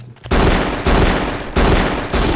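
Weapon fire in the video game Frater, loud sustained bursts of rapid automatic shots in three or four long volleys separated by short breaks, heard close and alone with no voices.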